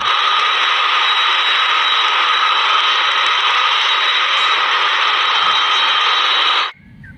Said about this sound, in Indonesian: Yang ini pesawat terbang.